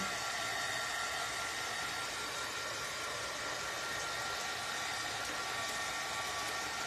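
A hair dryer blows steadily and continuously at close range as it dries a painted canvas board for a mandala craft, its even whooshing roar holding level throughout with no talking.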